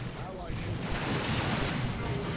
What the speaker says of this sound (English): Plasma Cannon misses.